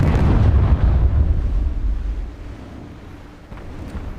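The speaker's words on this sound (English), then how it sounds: "Oh look, more bombs." Bomb blasts in the War Thunder Mobile tank game, a loud booming rumble at the start that rolls off and fades, followed by a smaller thump near the end, with no talk.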